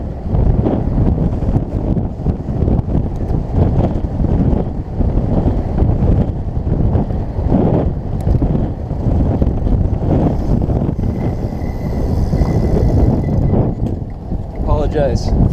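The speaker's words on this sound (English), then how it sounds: "It's kind of windy today." Strong wind buffets the microphone near the ocean while riding a Stromer ST3 e-bike, a loud, constant low rumble with gusting surges throughout.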